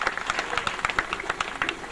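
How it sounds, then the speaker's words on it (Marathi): A group claps together in a steady, fairly fast rhythm during a ceremony at a Mahanubhav temple, and the close, continuous applause fills the whole moment. "टाळ्या वाजवा"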